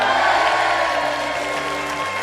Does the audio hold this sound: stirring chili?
no